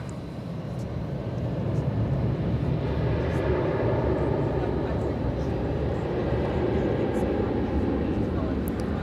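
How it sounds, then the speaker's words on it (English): Airbus A321 airliner at DFW Airport at night, a steady broadband jet engine roar that swells after the first two seconds and holds constant, heard from a distance outdoors. "Looks like this plane's going to Sacramento, this Airbus A321"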